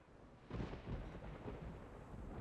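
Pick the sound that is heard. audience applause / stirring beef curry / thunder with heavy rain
thunder with heavy rain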